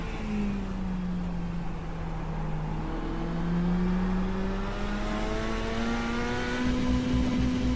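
Mini stock race car running on track, heard onboard: a steady engine drone with gliding harmonics that climb and fall as it accelerates, loud and continuous throughout.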